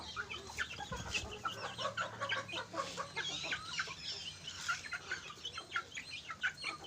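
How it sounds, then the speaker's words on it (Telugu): Many chickens, including a few native country hens, cluck and chatter together continuously on a poultry farm, a busy flock sound at moderate distance. "మన ఫామ్లో ఉన్న మొత్తం కోళ్ళు అండి ఇవి"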